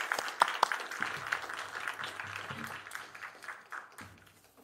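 Church congregation applauding after a Bible orientation talk, a fairly quiet, scattered round of clapping that thins out and fades over several seconds.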